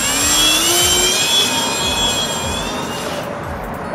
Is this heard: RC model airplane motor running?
yes